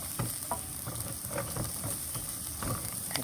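Garlic sautés in a pan for a simple home dinner, giving a steady close sizzle and crackle, with soft scraping stir clicks recurring through it and no voices.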